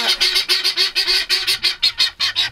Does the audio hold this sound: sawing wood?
no